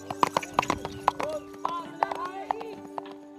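Hooves of well-bred horses clip-clop at a breeding farm, a steady run of sharp close knocks with a soft neigh and a constant tonal hum beneath.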